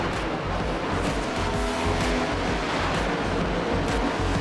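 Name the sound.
NASCAR cars racing on track in iRacing video game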